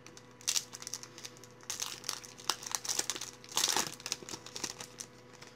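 Foil wrapper of a Yu-Gi-Oh! Heritage of the Brave booster pack being crinkled and torn open up close, with bursts of crackling and rustling spread across several seconds, no talking.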